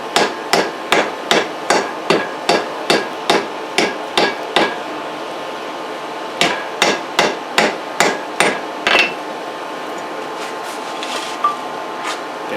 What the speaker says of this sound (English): I'm just tapping the layers together to get everything seated nice and firmly.